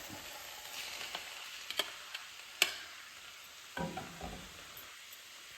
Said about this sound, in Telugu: ఇప్పుడు ఇది కలిసేలాగా కలుపుకోవాలండి